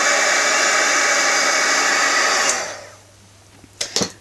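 Loud, steady roar of a hair dryer blowing on a fresh paint wash, running continuously for about two and a half seconds before cutting off, followed by quiet and a couple of small knocks.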